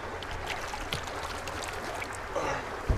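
Water splashing and trickling from a cold Kolyma stream as someone washes their face, a steady close wash of water sounds with a small splash near the end.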